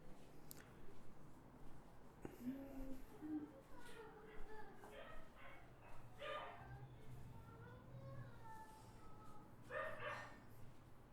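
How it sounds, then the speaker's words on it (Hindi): Dogs bark somewhere outside near a village house. A few yips and barks sound at a distance, quiet and intermittent, mixed with murmuring voices and room noise. "ये कहाँ पे कुत्ते भौंक रहे हैं दुष्ट"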